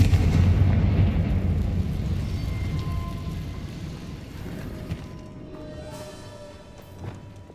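A Confringo fire spell in Hogwarts Legacy sets off a heavy booming blast that rumbles loudly at the start and then decays into a long fading roar, with a few small crackling debris hits near the end.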